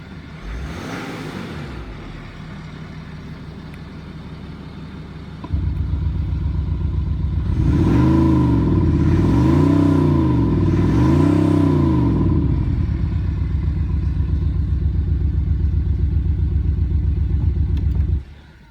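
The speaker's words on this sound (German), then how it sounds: "Wir hören dann wieder den Originalsound des BMW Diesel." A BMW X6/X5 diesel with its Active Sound system switched off gives its original engine note, a steady close idle drone that steps up, then rises and falls through several revs before settling.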